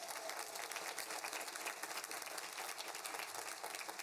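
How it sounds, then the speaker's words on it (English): An audience applauds at a college commencement ceremony, a dense, steady wash of clapping heard from a distance at low level. "Let's have a round of applause for them."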